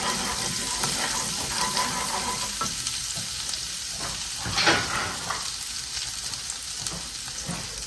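Garlic sizzling in a pan of butter, a steady close frying hiss with occasional stirring scrapes and a brief louder crackle midway, no talk.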